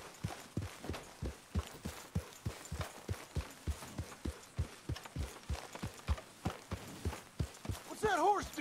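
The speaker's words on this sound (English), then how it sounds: "What's that horse doing in here?" A horse's hooves clip-clop in a steady walking rhythm on hard ground in Red Dead Redemption 2, close and clear, with a brief voice near the end.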